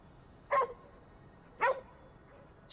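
A dog in Ghostwire: Tokyo gives two short, clear barks about a second apart, moderately close against a quiet background.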